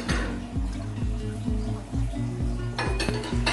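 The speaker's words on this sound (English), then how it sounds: "Now adding the cooked silver side corned beef into my pot." Cooked silverside corned beef is tipped into a cooking pot for an Arroz a la Cubana style dish, with repeated metal clinks and scrapes of utensils against the pot over a steady low sizzle, loud and close.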